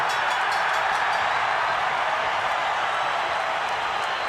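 A boxing crowd at the MGM Grand in Las Vegas stands and applauds after a title fight, a steady, dense roar of clapping and cheering filling the arena without a break.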